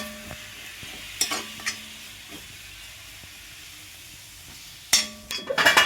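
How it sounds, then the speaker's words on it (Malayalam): Onion curry with half a teaspoon of masala stirred in a pan, with a low sizzle under sharp scraping strokes that come in bursts, the loudest near the end. "കുറച്ച് മസാല ഒരു അര ടീസ്പൂൺ മസാല നമുക്ക് നല്ലോണം ഇളക്കിയെടുക്കാം"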